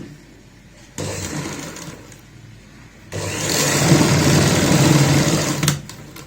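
A sewing machine runs a basting stitch on a child's frock. The motor hums loudly in two runs, with a short start before a longer, steady whir that cuts off near the end.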